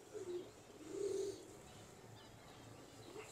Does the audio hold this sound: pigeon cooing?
yes